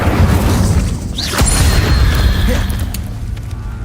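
A fire spell is cast in Hogwarts Legacy, a loud burst and roar over a steady rumbling game background, with a sweeping tone partway through.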